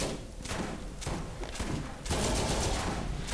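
Shotgun fire in the video game Borderlands, several heavy booming blasts in quick irregular succession, close and loud, with the last stretch denser and more sustained.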